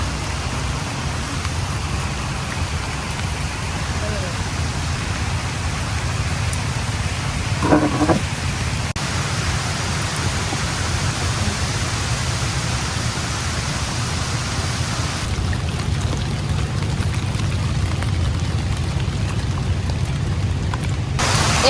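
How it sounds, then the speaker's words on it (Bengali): Steady outdoor rainfall in a village garden, a continuous broadband patter holding at a constant level throughout, with a brief faint knock midway and no voices. "বৃষ্টিটা কিন্তু অনেক দরকারও ছিল"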